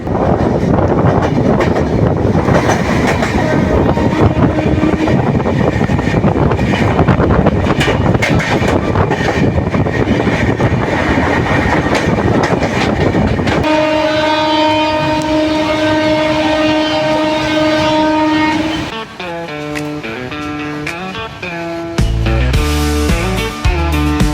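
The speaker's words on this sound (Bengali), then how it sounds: "এইবার আমাদের সাথে দেখা হবে ট্রেন নাম্বার 12858 দীঘা থেকে হাওড়া তাম্রলিপ্ত এক্সপ্রেসের সাথে" Tamralipta Express 12858 from Digha to Howrah passing close by with a loud roar of wagons, then a long sustained horn blast followed by shorter horn notes.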